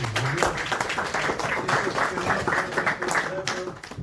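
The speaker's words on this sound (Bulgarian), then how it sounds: "Нека да чуем аплодисменти" An audience applauds at a poetry evening in Bulgaria with steady, dense clapping through the whole stretch, and a voice is briefly heard over it.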